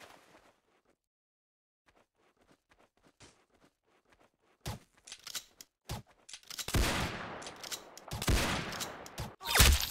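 Gunfire in the Roblox game Arsenal: faint, sparse clicks and shots at first, then loud, dense bursts of rapid shooting that grow more intense toward the end, with no talking.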